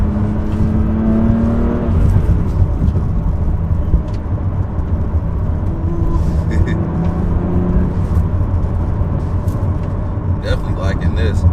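A BMW M2 Competition's engine hums and whirs from inside the moving car, with a few revs rising and falling during shifts, while someone talks over it.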